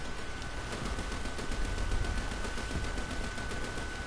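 AI-gunned machine guns in War Thunder fire in a steady, rapid stream of bursts, fairly distant and moderately quiet, with no talking.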